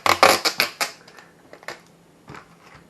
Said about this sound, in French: un gros scotch marron, ça peut être du scotch de masquage